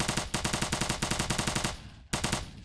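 Rapid automatic gunfire from the blocky zombie shooter game Zombi Blocks, loud bursts of evenly spaced shots with a brief pause before firing resumes.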